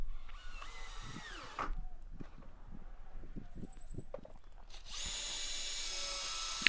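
A power drill drives standard wood screws into pallet wood boards being clad over an old fence panel, with whirring bursts at the start and end and a run of short knocks and taps between them.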